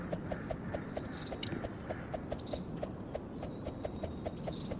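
Horse hooves clip-clop steadily in a Roblox game, a regular rhythm of sharp, evenly spaced knocks over a constant low background rumble, with no talking.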